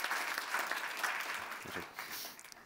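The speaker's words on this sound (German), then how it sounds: "Ist äh, ja erstmal ein Applaus" An audience at an economics conference panel discussion applauds to welcome a panelist, a dense burst of clapping that fades out toward the end.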